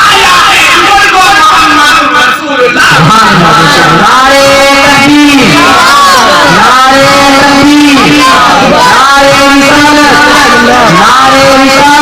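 A large crowd at a Sunni religious gathering shouts a religious slogan in loud repeated waves, a leading voice calling and many voices answering in rhythmic rising and falling chants.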